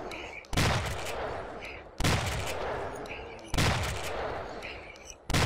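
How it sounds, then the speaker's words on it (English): Gunfire in the zombie survival game Project Zomboid, shooting into a group of zombies: three loud, sharp shots spaced about a second and a half apart, each with a long echoing tail. "And then I could probably shoot a bunch of them at the same time, right?"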